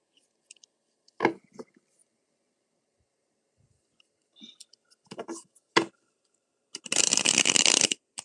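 Cards riffle and snap in short bursts with pauses between, ending in a longer, louder riffle shuffle up close.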